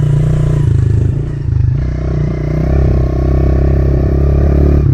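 A dirt bike engine idles loud and close during warm-up, a steady throbbing putter with a slight dip and small rises as the throttle is blipped, over faint clattering, with no talking.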